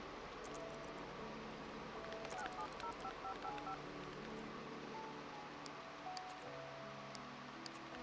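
A telephone is dialed in The Sims 2 video game, with a short run of faint, evenly spaced keypad tones over soft game ambience and background music.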